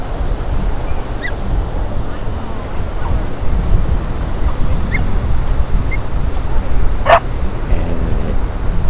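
Ocean surf surges and washes around Thor's Well on the rocky shore at Cape Perpetua, Oregon, a steady broadband roar with wind noise buffeting the microphone and one brief sharper splash near the end.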